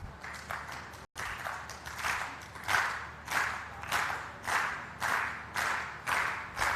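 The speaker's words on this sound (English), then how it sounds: "and it's a clap" An audience at an agriculture big-data convention pitch event claps together in a steady unison rhythm, about one loud burst every half second, after a brief gap at the start.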